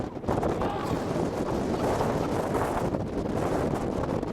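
Strong storm wind near a tornado roars and buffets the microphone in a loud, continuous rush, with occasional excited voices.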